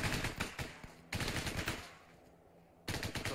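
Automatic weapons fire in a first-person military shooter game, Arma 3, with loud rapid bursts of gunshots in two close volleys separated by a brief quieter gap.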